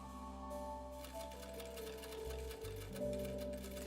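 Soft, rapid typing ticks from a character in the video game Inhuman Resources patter quietly under a sustained tonal music bed, steady and faint throughout.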